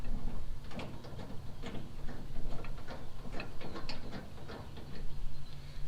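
Bolts are snugged down with a ratchet on the helper air bag brackets of a lowered GMC Sierra truck. Quick clicking ratchet strokes repeat steadily over low background hum, close by.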